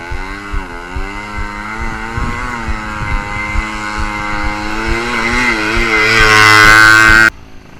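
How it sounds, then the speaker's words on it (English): A small 2-stroke scooter engine labours uphill with a buzzing, wavering drone that slowly climbs in pitch and loudness, strains near the end, then cuts off abruptly. "The 2-stroke engine is all or nothing when it comes to power."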